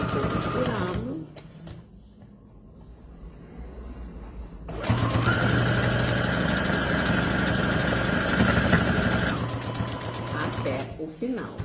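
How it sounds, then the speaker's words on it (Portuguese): A sewing machine runs a seam through pinned fabric, a steady close motor hum that starts after a quieter pause and carries on continuously. "Abaixo a agulha, inicio a costura, tirando o alfinete"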